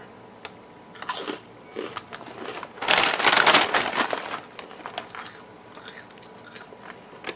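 Close, crisp crunching and chewing of Good Bean sea salt bean chips, with irregular bites building to a dense burst of crunches, then quieter chewing, no talking.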